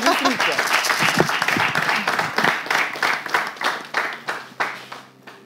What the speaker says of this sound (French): Merci, on applaudit pour lui.